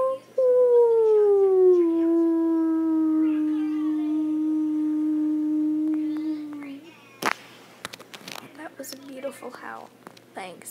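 People imitate a wolf howl together, a long sustained howl gliding down and holding for several seconds, followed by breathy laughter and chatter.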